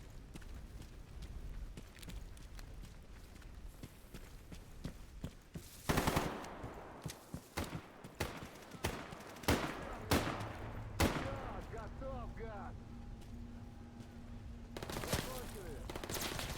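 Bursts of machine gun fire in a video game, first a rapid rattle, then a run of loud separate shots spaced a second or so apart, and another burst near the end.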